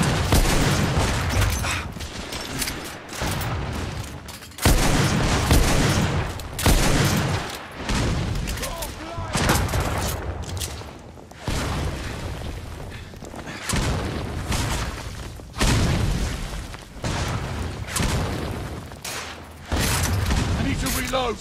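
Heavy gunfire and booming blasts in a Victorian London siege battle from The Order: 1886, loud repeated volleys in bursts with brief gaps, while shouted voices call out over the combat.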